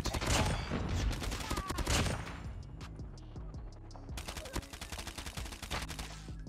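Rapid bursts of gunfire from Call of Duty Mobile, loud and dense at first, then a pause before another stretch of fast repeated shots; a voice talks faintly underneath.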